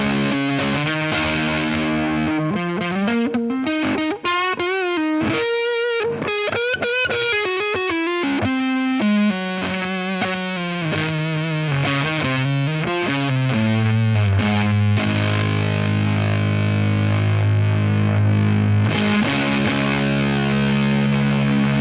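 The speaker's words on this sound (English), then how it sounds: "it's getting a little bit more of that kind of synthetic fuzzy tone on the neck pickup with the dirt cranked" Cranked Fulltone Soul-Bender fuzz on an electric guitar's neck pickup, loud and continuous, with a melodic run of distorted notes giving way to a thick, sustained synthetic-sounding fuzz tone.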